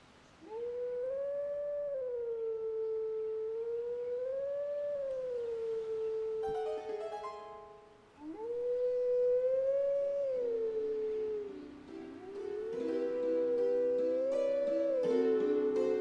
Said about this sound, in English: You never heard wolves howl